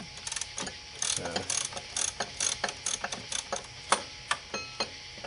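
A ratchet wrench clicks in quick bursts while backing a 10mm nut off the charging wire on a 2001 Ford E350 with a 7.3 PowerStroke, close and crisp with short pauses between strokes.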